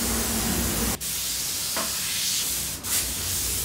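A fine airbrush sprays the final yellow paint layer of freehand flames on a skull, giving a loud, steady hiss broken by two brief pauses in the airflow.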